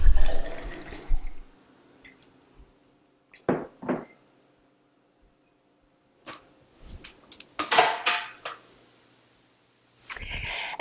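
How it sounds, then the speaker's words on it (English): Leftover kefir liquid is poured into a glass: short, spaced splashes and clinks come close and fairly loud amid quiet gaps, with no talking. "I will pour that into a glass that I will consume in just a little bit."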